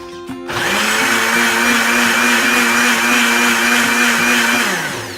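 A blender runs with water inside to clean its cup, switching on with a sharp start and holding a loud, steady whirring motor drone for about five seconds before winding down, with no talking.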